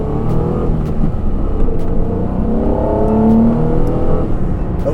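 A 2005 Acura NSX engine pulls steadily under acceleration while driving, its rumble rising in pitch with a smooth whir, heard from inside the car at constant loudness with no talking.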